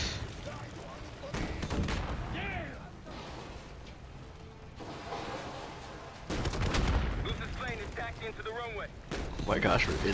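Gunfire rattles through a Black Ops 6 campaign battle at an airport terminal, with loud, dense bursts and booming shots running throughout under excited speech.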